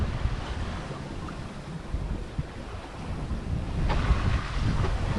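Wind rushing over a sailboat at sea between Santa Cruz Island and Santa Barbara Island, a steady low buffeting roar against the microphone that grows slightly stronger toward the end, with faint water wash beneath.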